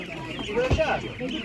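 Young turkeys at an animal market give a few short, close calls and clucks amid background chatter and crowd noise.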